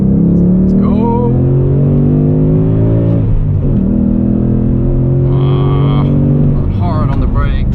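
A 2018 Ford Mustang GT with a V8 engine accelerating at night, a loud droning growl rising in pitch through the gears with brief dips at the shifts, heard from inside the car with a voice talking over it.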